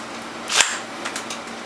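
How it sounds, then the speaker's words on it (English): Sharp metallic clicks as a bolt and charging handle slide into a homemade M4 upper receiver: one loud, close snap followed by a few fainter clicks, with no talking. "Starting off with the bolt and charging handle, which go in the upper receiver."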